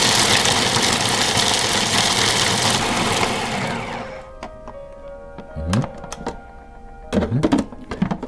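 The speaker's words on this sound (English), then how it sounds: "And now let's give this a grind" A kitchen grinder whirs loudly as pecans and pumpkin seeds are ground for a no-bake cheesecake crust, then winds down, followed by several sharp clatters and knocks as the machine settles.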